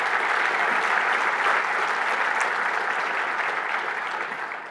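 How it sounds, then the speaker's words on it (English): Steady, even applause from a conference audience at a Linux kernel keynote, a broad wash of clapping with no breaks that fades gently toward the end. "round of applause, honestly."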